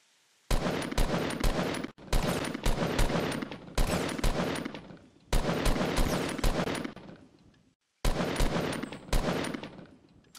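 Fortnite gunfire at Retail Row rattles out in four long, loud bursts of rapid automatic shots, each volley separated by brief silences.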